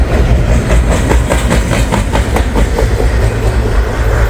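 A freight train rolls past close trackside, a loud heavy rumble with rhythmic clickety-clack of wheels over rail joints, steady throughout.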